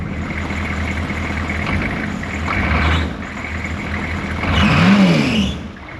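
A diesel engine runs steadily with a low, rough rumble and a constant hum, then swells briefly louder near the end before settling again. No one speaks.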